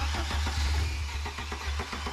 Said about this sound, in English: Let's hit the starter.